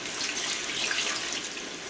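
Juice from two large coconuts pours in a continuous, even splashing stream close by, with no voices over it.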